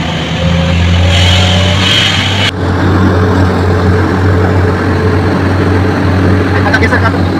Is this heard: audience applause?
no